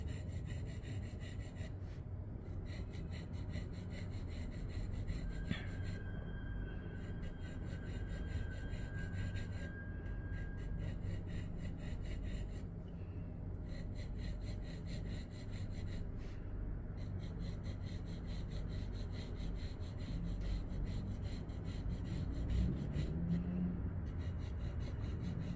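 A pencil shades a smooth gradation on drawing paper, with soft repeated scratching and rubbing strokes running steadily throughout, close and unaccompanied by speech.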